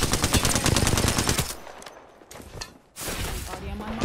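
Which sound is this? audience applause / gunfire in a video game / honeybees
gunfire in a video game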